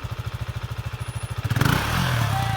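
An off-road motorcycle engine idles with a fast, even thumping pulse, then revs up sharply into a loud, sustained roar.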